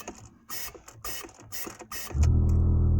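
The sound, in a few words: air compressor kicking back on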